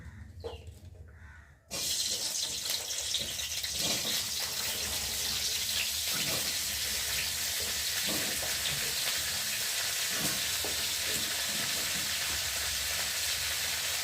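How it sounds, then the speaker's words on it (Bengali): Cut cauliflower pieces hitting hot oil in a pan, a loud continuous hissing sizzle that bursts in suddenly after a short quieter moment and stays steady. "এখন আমি কেটে রাখা ফুলকপিগুলোকে দিয়ে ফার্স্টে ভালো করে ভেজে নেব"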